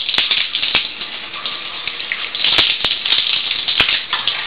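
A bathroom shower runs warm water over pet parrots being bathed, a steady broadband hiss of spray with a few sharp splashes and clicks, close and continuous, with no talking.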